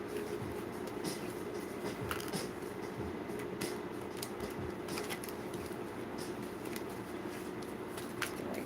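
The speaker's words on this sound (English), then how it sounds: "Like 2 or 3 more shuffles." Tarot cards being shuffled by hand make soft, papery riffles and taps in irregular bursts over quiet room tone, with no speech.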